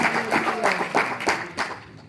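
A congregation claps together in a steady rhythm during a church worship service, with the clapping moderately loud and some voices mixed in.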